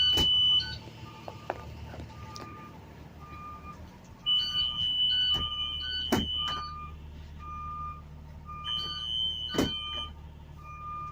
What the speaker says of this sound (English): Make sure they open and you hear the alarm.